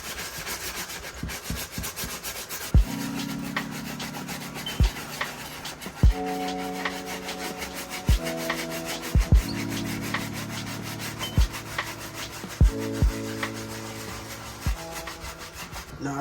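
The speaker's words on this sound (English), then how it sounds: "So I'm just going to start off with my medium textured brush. And I'm just going to make my way around the entire shoe." A medium textured brush scrubs an Air Jordan 1 Low sneaker with dish detergent, close and alone, with repeated back-and-forth rasping strokes broken by sharp taps and short pauses.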